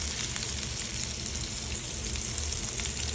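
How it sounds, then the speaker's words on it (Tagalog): Garlic sautéing in a pan for chicken curry, a steady dense sizzle of frying oil, close and continuous with no talk. "Lagisa tayo pala sa bawang."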